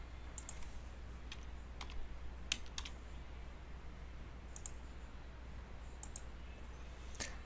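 Sparse, crisp mouse clicks and a few key taps on an office computer running hospice billing software, close and quiet over a low steady hum, with no one speaking.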